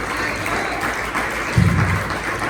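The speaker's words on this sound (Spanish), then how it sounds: "Iglesia, regálame una ofrenda de palmas al Señor" A church congregation at a Bible study applauds for the Lord, a dense and steady wash of clapping close by. It holds at an even level with a slight swell partway through.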